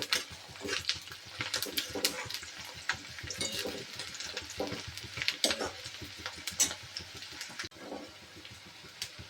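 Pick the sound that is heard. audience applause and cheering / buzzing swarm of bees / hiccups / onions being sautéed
onions being sautéed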